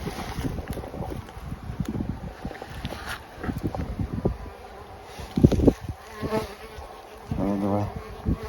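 Honeybees buzzing around the hive entrance as they bring in pollen loads, a dense close swarm hum with wind noise on the microphone and some handling bumps.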